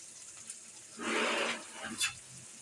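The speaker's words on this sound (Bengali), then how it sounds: "হালকা একটু জল ছিটা দিয়ে দিলাম" A quick splash of water hits a pan of simmering curry with small potatoes, drumstick and tomato, a brief hiss-like burst lasting about half a second, followed by a faint clink, all fairly quiet.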